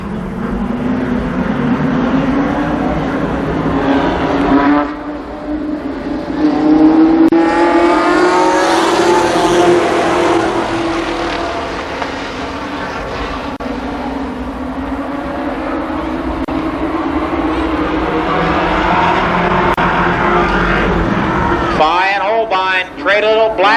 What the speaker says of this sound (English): 8 laps, the first Limited Sportsman Heat Race.